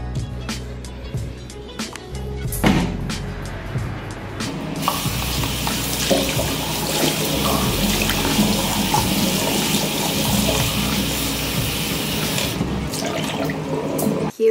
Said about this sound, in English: I'm gonna wash this packaging and so that I could put my squishy in there